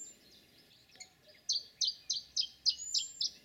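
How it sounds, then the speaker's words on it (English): Chiffchaff song on its own: a steady run of about seven sharp, evenly spaced high chirps following a few fainter notes, fairly close and clear over quiet background. "But surely that song, that's a chiff-chaff, isn't it?"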